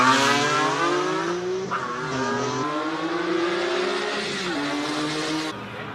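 A BMW E46 M3 race car accelerates hard up a hill climb course, its engine note rising through several gear changes and then fading near the end, loud and fairly close with no talk over it.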